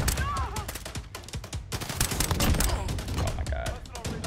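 Rapid, loud Renetti pistol gunfire in the shooter game Call of Duty: Modern Warfare, bursts of close shots cracking in quick succession over a busy game mix with faint voices.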